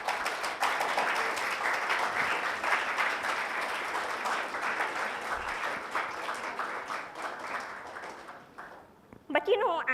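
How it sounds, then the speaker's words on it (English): An audience in a school hall applauds at length, a dense wash of clapping that swells and then gradually fades before ending. "a big applause for my mom for that"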